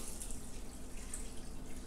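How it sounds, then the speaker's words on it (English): Water is poured from a tap or jug into a cooking pan to cover dry lentils, giving a soft, steady splashing and trickling at moderate distance with no talk. "We'll cover them up with some water."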